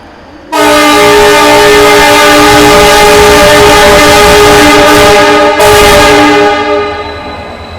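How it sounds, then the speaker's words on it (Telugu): A locomotive horn on an Indian express train sounds at a station, a very loud, close, sustained harmonic blast lasting about five seconds, briefly broken then resumed before fading. "లోకో పైలట్ కోపం వచ్చి గట్టి కొట్టాడు హాంకింగ్"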